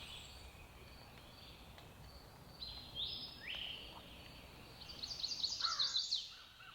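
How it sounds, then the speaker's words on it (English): Wild birds calling in a mountain forest on a foggy morning, several faint chirps and short song phrases scattered over quiet background hiss and insect buzz. "Listen to all of those birds."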